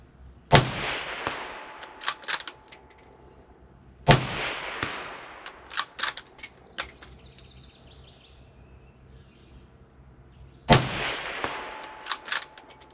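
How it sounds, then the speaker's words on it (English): Three loud, sharp rifle shots from a .350 Legend, spaced several seconds apart outdoors, each a hard crack with a rolling echo, followed by softer clicks and clunks of the action between shots. "whenever you take this out, this gun is very loud"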